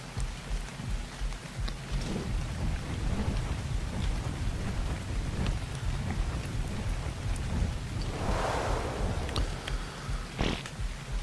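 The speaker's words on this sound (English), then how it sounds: "the rain looks pretty cool, too" Steady rain falls in the video game Ark Survival Evolved on the Ragnarok map, with low thunder rumbling beneath it and a brighter crack of thunder near the end.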